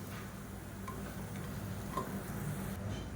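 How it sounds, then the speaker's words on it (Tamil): Lumps of asafoetida fry in hot oil in a pan, giving a quiet, close sizzle scattered with small ticking pops, and no voices. "பெருங்காயம் நல்லா பொரிஞ்சிருச்சு."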